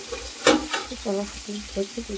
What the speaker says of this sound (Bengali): আর এখন মেটেটা একটু ভালো করে ভাজা হবে